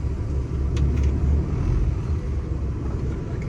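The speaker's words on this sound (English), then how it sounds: "We're in drive, pull forward, 5 miles an hour, smooth but firm." A truck in drive pulls forward at about 5 mph, giving a steady, close, low engine rumble that holds evenly throughout, with no one talking.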